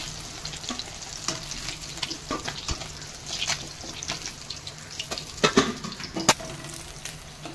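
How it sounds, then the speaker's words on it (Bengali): Small fish frying in hot oil until crisp, a steady close crackle broken by sharper pops and scraping stirs, with no voices. "এই আমার মাছ ভাজাও হয়ে গেছে পুরো মচমচে করে"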